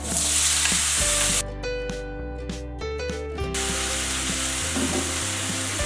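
Tomato added to browning garlic and onion in a frying pan sets off a loud, continuous sizzle with stirring scrapes, steady and close throughout.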